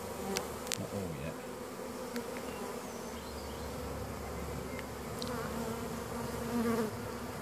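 Honey bees buzz around their hive outdoors, a soft, continuous hum of many insects with a few louder passes close by.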